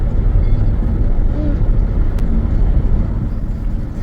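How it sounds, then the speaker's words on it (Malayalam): An airplane passing overhead gives a loud, steady, low roar that fills the whole stretch without fading, with a brief faint voice under it. "ഫ്ലൈറ്റ് വരുന്നു കണ്ടോ?"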